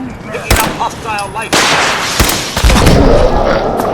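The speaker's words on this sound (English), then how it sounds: "Oh, he has a rocket launcher." In Fallout 4 on Survival Mode, a super mutant fires a rocket launcher. Loud, close booming blasts and thuds strike in quick succession, followed by a heavy rumbling roar.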